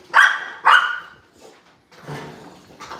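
An American bully dog gives two sharp, loud barks close by in quick succession, then quieter huffs and a muffled bark follow.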